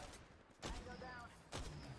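Bursts of gunfire in the mobile battle royale game Apex Legends Mobile, two heavy shot clusters about a second apart, faint and distant under a quiet game mix.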